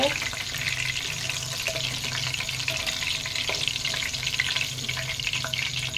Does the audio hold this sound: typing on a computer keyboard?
no